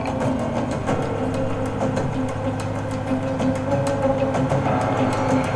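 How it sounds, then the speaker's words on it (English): Steady rumble of a train yard in a TV drama episode, with a low engine drone, metallic clanks and tonal hums of rail cars, continuous and fairly loud throughout. "Exactly, this is a train yard."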